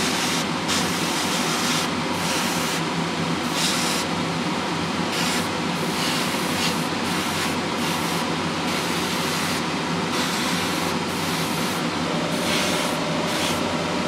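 An airbrush sprays Mr Hobby model paint in a continuous, close hiss with a few brief pauses where the trigger is released, accompanied by a faint compressor hum and no talking.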